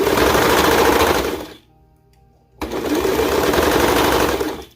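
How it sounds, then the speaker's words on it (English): A sewing machine runs in fast, loud, steady bursts while stitching around a fabric circle, stopping briefly for about a second before racing on again. "And I'm going to sew around the circle."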